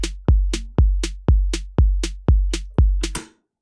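A short electronic drum loop: deep kick thumps on each beat alternating with crisp snare hits, about seven strikes in a tight steady rhythm, ending abruptly.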